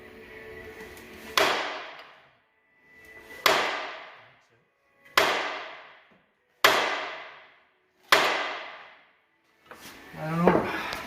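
Five heavy, evenly spaced hammer blows on a heated Peterbilt 379 truck part, each a loud metallic strike ringing out and decaying before the next, with a clattering jumble at the end.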